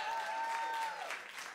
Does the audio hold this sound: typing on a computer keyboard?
no